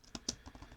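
Typing on a computer keyboard while writing C++ practice code, a quick run of several clicky keystrokes up close, alone without talk.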